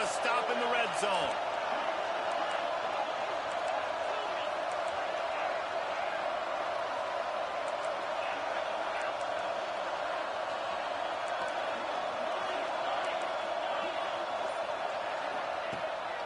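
A large stadium crowd at a college football game between Florida and LSU roars steadily as the defense tries to make a red-zone stop, a dense continuous wall of cheering with no break.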